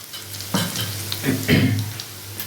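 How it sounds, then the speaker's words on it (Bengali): Egg and cauliflower fry in a pan, a close, loud sizzle punctuated by several scraping stir bursts from a spatula. "বন্ধুরা এইভাবে ভেজে নিতে হবে আর যতক্ষণ ভাজা হচ্ছে"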